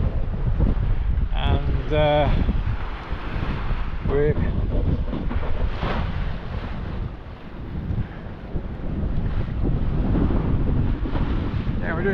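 Steady wind roars and buffets across a sailboat under full Yankee and staysail in about 15 knots with gusts, making 7 knots in the Sulu Sea, with water rushing beneath. Someone talks over the constant loud rush.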